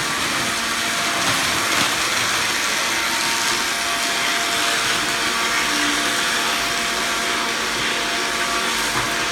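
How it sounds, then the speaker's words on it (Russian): A vacuum cleaner runs continuously indoors with a steady, loud whining roar that holds unchanged throughout, no voices heard. "Ну давай, пылесось"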